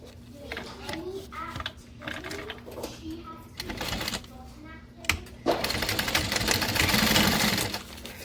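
Short bursts of a sewing machine backstitching, mixed with speech early on, then a longer loud run of rapid stitching toward the end.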